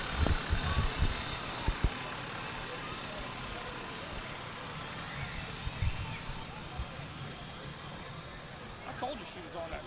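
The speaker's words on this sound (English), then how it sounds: "There's New Brighton Fire Department. Hi. One of their fine engines." Fire engine, the New Brighton Fire Department's Tower 84, rolling past in a Halloween street parade, its low diesel rumble and occasional air-brake hiss blending with steady crowd chatter and nearby talking throughout.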